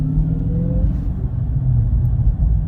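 Dodge Hellcat fitted with a JLT cold air intake cruising at low speed, its deep engine rumble steady and close with a slight rise in revs, no voices over it.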